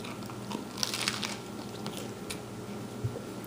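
Someone bites into and chews a crusty, thick-breaded breakfast panini with crunchy bacon. A run of crisp crunches and crackles sounds up close, with soft chewing noises between them over low background noise.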